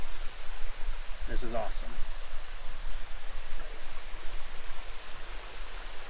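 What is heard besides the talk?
mountain waterfall in the White Mountains backcountry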